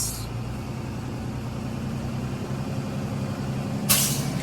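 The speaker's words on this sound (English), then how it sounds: "listen for my governor to cut out. It's going to make a spitting sound" A truck's air brake governor cuts out near the end with a short, sharp spitting hiss of released air, following several seconds of steady engine idle rumble.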